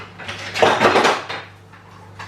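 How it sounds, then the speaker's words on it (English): A whisk clatters briskly against a bowl, mixing a mustard dressing for a fennel, celery and egg salad, with a dense burst of scraping and tapping in the middle that then eases off. "I'm just going to grab a whisk and just give it a really good"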